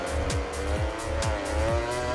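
A MotoGP 20 racing bike in the video game brakes hard into the Bucine corner, engine whine dropping through repeated quick downshifts with rhythmic revving sweeps, loud and close with no talk.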